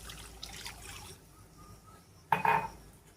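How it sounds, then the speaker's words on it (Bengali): Cold water is poured into a pan of mustard fish curry, giving a short, close splash and gurgle after quieter kitchen clatter and a faint trickle, with no one speaking. "আমার যেহেতু টাইমের অভাব, এজন্য আমি একটু ঠান্ডা জলই দিয়ে দিচ্ছি পরিমাণ মতো"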